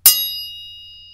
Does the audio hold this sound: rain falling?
no